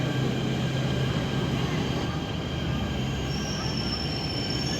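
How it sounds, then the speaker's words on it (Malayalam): A Delhi Metro train runs past with a continuous rumbling roar and a faint high whine rising partway through, heard from nearby at a steady level. "മെട്രോ ഒക്കെ ഇപ്പൊ ഇതിനകത്ത് ഓടുന്നത്."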